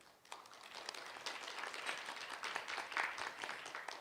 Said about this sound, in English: With a big round of applause, please welcome her.